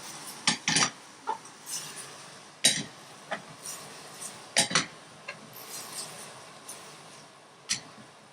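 Metal spoon scraping and clinking against a pot while zucchini curry is stirred in a South Indian Telugu kitchen, with intermittent sharp knocks and scrapes spread across the stretch, fairly quiet and close.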